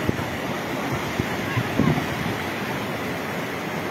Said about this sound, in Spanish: las aguas todavía siguen discurriendo